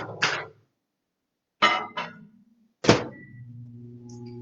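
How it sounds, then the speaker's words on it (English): A microwave oven heats soy curls in bouillon: sharp clunks and clicks as the door shuts and buttons are pressed, then a steady low electrical hum as it starts running. "So I'm going to stick that in the microwave for a couple of minutes so it'll be hot."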